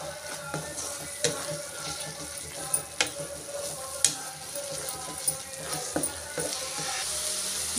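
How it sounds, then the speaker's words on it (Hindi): A spice masala for Andhra-style mutton curry fries in oil on a high flame, a close, constant sizzle punctuated by scattered taps and scrapes of stirring. "अब इसको हम हाई फ्लेम पे थोड़ी देर मसाले को पकने देंगे।"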